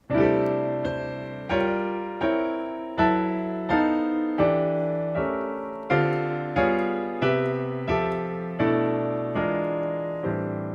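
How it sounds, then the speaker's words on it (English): Solo piano plays a slow progression of rich chords in a long string of 2-5-1 changes, each struck firmly and left to ring before the next, moving steadily through about a dozen changes. "it's basically a long string of 2-5-1 chords that eventually lead to the very last chord"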